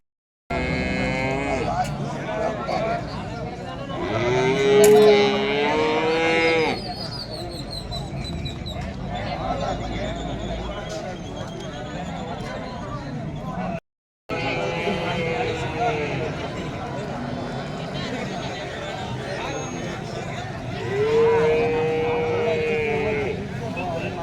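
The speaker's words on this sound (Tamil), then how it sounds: "இன்றைக்கி சீனாபுரம் மாட்டு சந்தையில் பார்த்திங்கன்னா ஜெர்சி கிடாரி ஹெச்எஃப் கிடாரி" Cattle, including Jersey and HF heifers, low repeatedly at the busy Chinapuram cattle market, several drawn-out moos rising over constant crowd chatter and birdsong, with a person talking near the mic.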